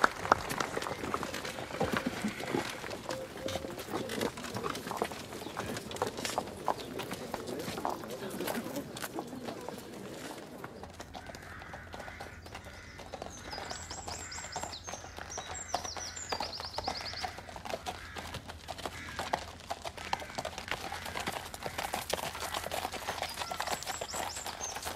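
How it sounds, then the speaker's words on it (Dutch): Horse hooves clip-clop in a quick rhythmic trot, loud at first and fading lighter later, with people talking and faint bird chirps in the background. "Zadel jij de paarden af, Gaston?"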